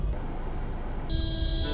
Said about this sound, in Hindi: जो रियर में है हॉर्न बजा रहा है कंटिन्यूस टैक्सी ड्राइवर